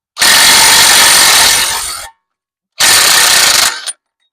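A Craftsman power tool runs on a Jeep Cherokee in two loud, close bursts, a long whirring run of about two seconds, a short pause, then a briefer second run that cuts off abruptly.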